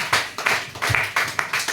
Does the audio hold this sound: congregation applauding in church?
yes